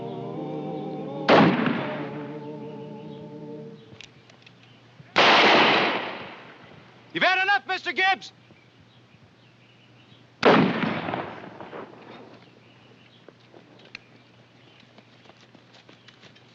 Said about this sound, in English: When I raise my gun, you start a firing.